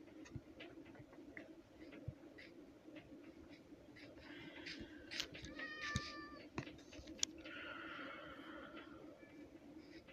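A white cat in Minecraft meows a few times in the middle, its faint mews sounding over quiet game background ambience.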